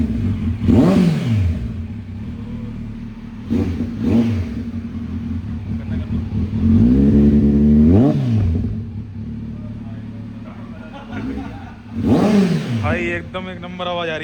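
A Kawasaki Z900 motorcycle fitted with an aftermarket Arrow exhaust idles with a deep throb, then is revved in several sharp bursts, its exhaust note rising and falling loudly up close.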